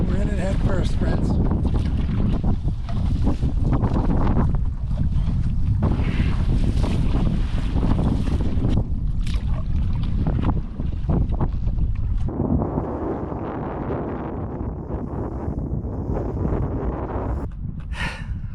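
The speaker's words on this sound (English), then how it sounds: "this wind is howling" Strong gusty wind howls across a lake during a solo canoe trip, a loud, continuous roar of rushing air and microphone buffeting with splashing water, easing slightly in the later part.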